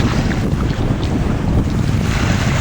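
Wind gusts outdoors at an open canoe build site, buffeting the microphone with loud, steady rumbling noise and no speech.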